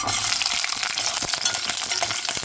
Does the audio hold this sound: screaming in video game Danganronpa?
no